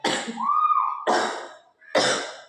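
A person with a cold and cough gives three harsh coughs, close to the microphone, with a brief wheezy intake of breath between the first two.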